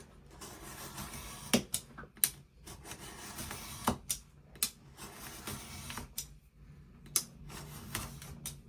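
Scissors snip through strips of paper in a quiet room, a string of crisp, uneven cuts and rustles up close, with short pauses between bursts.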